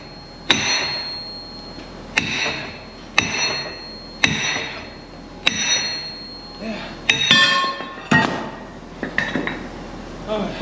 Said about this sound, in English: I don't know why he went back to the little hammer.